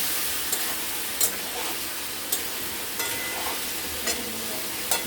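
Fish head curry with spice paste and water is stirred and sautéed in a pan, giving a continuous loud sizzle broken by regular scraping stirs about once a second.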